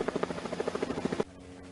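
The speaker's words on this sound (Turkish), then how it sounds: "İskenderun Emniyet Müdürlüğü narkotik timleri tespit edilen yerlerin tüm detaylarını havadan helikopterle görüntüledi." A police helicopter flies low over forested rural countryside, its rotor beating in a loud, steady chop for about a second before the sound abruptly drops to a faint, distant hum.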